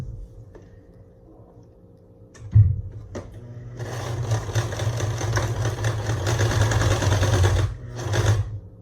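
A sewing machine starts after a few clicks and runs steadily for several seconds with a fast mechanical whir, stitching fabric for a face mask, pausing briefly before a final burst.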